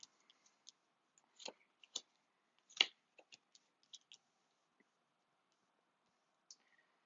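Tarot cards are shuffled by hand in a quiet room, producing a scattered series of soft clicks and crisp snaps with pauses between them, close and fairly faint.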